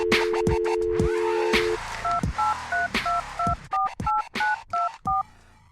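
A telephone dialing a call: a steady dial tone, then a quick run of about a dozen distinct touch-tone beeps in an uneven rhythm, loud and close, with clicks between them and no talk.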